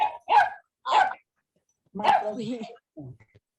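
A dog barks several times nearby in short, sharp bursts with a brief pause between, ending in a couple of softer yips, heard alone without talk.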